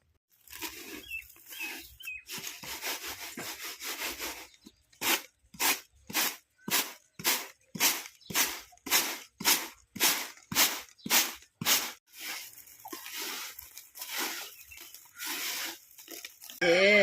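Dried broad bean seeds are crushed and broken by hand into split pulses, making a regular series of about fifteen crunching, scraping strokes, close and distinct, with rustling before and after.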